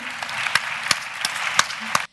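An audience in a lecture amphitheatre at a Lyon event about dyslexia claps steadily to welcome a young speaker, with a few sharper individual claps standing out before the applause stops abruptly.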